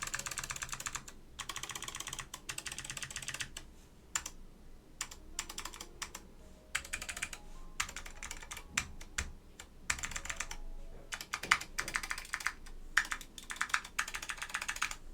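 Typing on a Northgate Omnikey Ultra keyboard with Alps SKCM Amber switches, a close run of crisp clacking keystrokes in bursts and rapid flurries with short pauses, fairly quiet and without talk.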